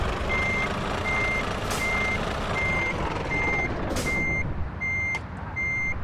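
A truck reversing in Euro Truck Simulator 2 sounds a loud, evenly spaced backup beep that repeats over a steady engine rumble, with a few short hissing bursts along the way.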